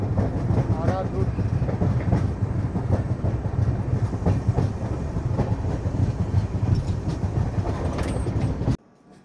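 The Himgiri Express runs along the rails between Howrah and Jammu Tawi, a loud continuous rumble with repeated clickety-clack beats of the wheels heard from inside the train, cutting off abruptly near the end.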